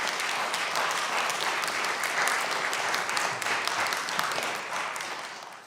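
Audience applause at a congressional subcommittee oversight hearing, a full continuous burst of many people clapping in the hearing room, steady and loud before thinning out toward the close.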